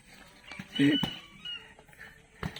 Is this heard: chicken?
yes